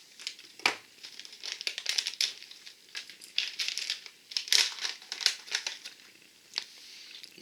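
A plastic bag of nut and raisin mix crinkles and rustles as it is cut open with a knife, bursts of close crackling that come and go in irregular handfuls.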